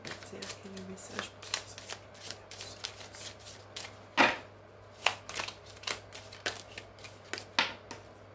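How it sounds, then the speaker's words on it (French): Oracle cards riffled and shuffled by hand, a series of crisp papery flutters and snaps in irregular bursts, close and fairly quiet, with a low steady hum underneath. "J'ai beaucoup de mal à mélanger cet oracle"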